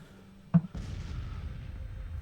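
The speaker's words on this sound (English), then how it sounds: "How'd she go down? Ammo explosion." In a naval battle video game, a ship's ammunition detonates with a sharp single blast followed by a rumbling, decaying roar, loud and without voices.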